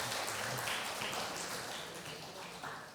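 Audience applause at a stage event, a dense, even patter of many hands clapping that is fairly faint and distant and eases slightly over a few seconds.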